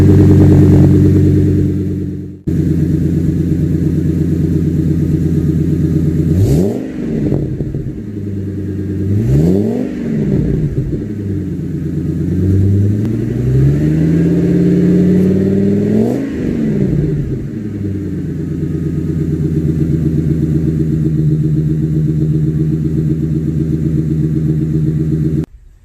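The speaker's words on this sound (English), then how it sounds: "we'll give it a couple of revs so you can hear what this exhaust sounds like" A Ford V10 Super Duty truck with a newly fitted MBRP exhaust idles loudly with a deep drone, then revs several times in rising and falling sweeps, including one longer climb, before cutting off abruptly.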